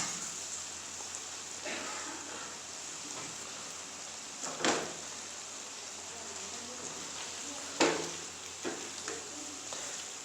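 Chilli chicken and sauce fry in a pan with a steady, faint hiss and crackle and a few louder stirring knocks, as a person talks over it.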